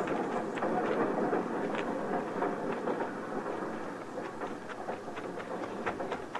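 A steam-era train idles at a frontier station in a western drama, giving off a steady rumbling hiss with faint clanks over it, moderately loud and continuous, with no talk.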